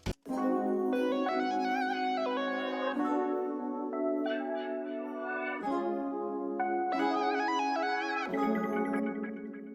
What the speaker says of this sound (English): we added this lead from Repro 5, which is a Prophet 5 emulation.